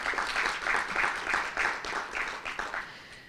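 Audience applause at a 2024 summit launch event, a steady burst of clapping from a crowd that holds for a few seconds and then fades out.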